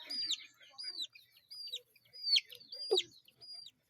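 Chicken vocalizations, a series of sharp clucks and squawks in irregular bursts, close and fairly loud, with no talking.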